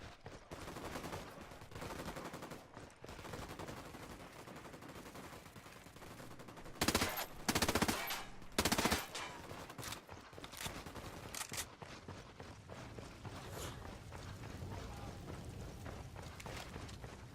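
Gunfire from a squad opening fire in Ghost Recon Wildlands: sustained rattling shots and bursts over roughly seventeen seconds, with a cluster of louder, sharper blasts in the middle, heard close and without talk.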